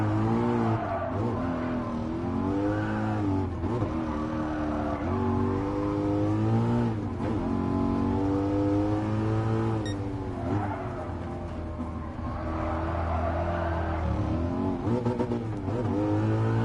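A Ford Mustang in the Gran Turismo Sport racing game roars loudly throughout, its engine note climbing and dropping repeatedly through downshifts and revs, with occasional tire squeal.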